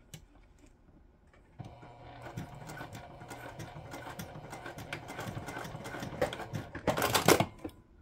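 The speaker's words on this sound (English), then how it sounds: "We're just basting that end closed." A sewing machine bastes the end of a seam closed on a backpack-style sewing project, its rapid mechanical stitching running steadily close by after a quiet start, then rising into a louder, busier burst near the end.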